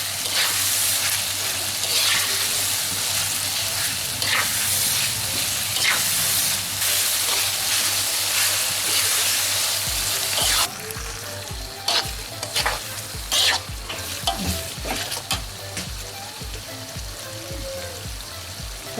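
Beef dendeng for Padang-style dendeng batokok frying in oil while being stirred: a loud, continuous sizzle with scraping stirs. The sizzle thins after the midpoint into sparser crackles and clatter.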